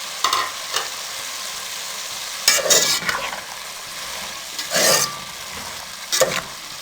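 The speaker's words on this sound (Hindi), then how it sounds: "अब इसको हम अच्छे से मिक्स करेंगे।" Potato bhaji with garam masala and spices stirred in a pan, with a steady sizzling fry underneath and several distinct bursts of spoon scraping at intervals.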